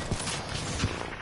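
Two sharp gunshots from a shooter video game, fired at one of the player's own clones, crack out at a moderate distance over a dense, steady bed of game noise, the second shot coming about three quarters of a second after the first.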